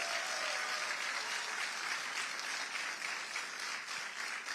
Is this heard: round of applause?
yes